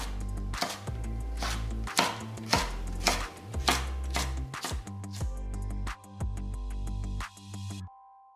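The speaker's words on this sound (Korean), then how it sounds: "통마늘 3개는 살짝 굵게 다져서 팬에 담고" A knife coarsely chops whole garlic cloves on a board in a series of sharp, close, irregular thuds, about a dozen in all, over music playing in the background.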